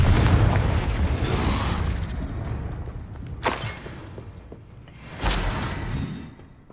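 Confringo fire spell explosions in the video game Hogwarts Legacy, a rumbling boom fading out, then two sharper blasts that swell and decay against a low background.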